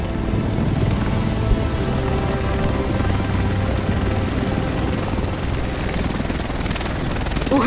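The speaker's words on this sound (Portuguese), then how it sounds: "O resto de nós deve estar nesse helicóptero." A helicopter arrives in the video game The Division, its loud, steady rotor thrum and engine drone filling the scene continuously without a break.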